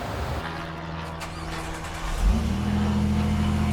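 A car engine fitted with a large Gibson muffler idles steadily, then revs up at about two seconds and holds a louder, deeper rumble to the end, fairly close.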